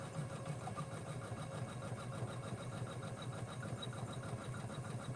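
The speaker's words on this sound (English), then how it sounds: "So we're gonna stitch the P out in its entirety" An embroidery machine stitches out a satin-stitch appliqué letter in a steady, fast mechanical whir with a rapid needle rhythm. It runs continuously, fairly quiet and close, with no talk.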